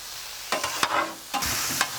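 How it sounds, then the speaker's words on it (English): Fajita vegetables and tomato being stirred in a hot pan, a steady sizzle broken by a few scraping spatula strokes, close and alone with no talking. "All right, let's dump our tomato in here too. All right, now you kind of want to mix it all up."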